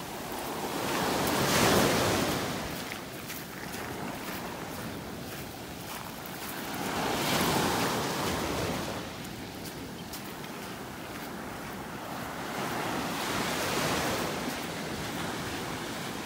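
Ocean waves break and wash onto a beach in North Naples, Florida, where sandpipers dodge the surf, a loud continuous roar that swells every few seconds with wind noise and no talk.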